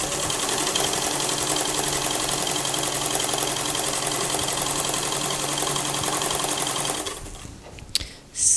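Sewing machine running steadily as it stitches the hem of a knit dress, a continuous close mechanical whir for about seven seconds before stopping, followed by a few small handling clicks.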